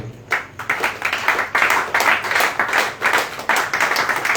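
A church congregation claps together in a steady, rhythmic beat, many hands sounding loud and close in a lively continuous round of applause.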